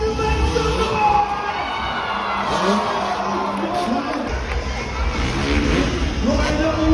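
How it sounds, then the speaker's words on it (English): A crowd cheers and shouts at a live freestyle motocross show in New Zealand, a steady roar of voices with children shouting and engine rumble underneath, clapping hard to make out. "Clap your hands and make some noise!"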